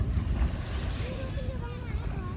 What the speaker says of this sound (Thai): อันนี้เป็นทะเลระยองนะคะ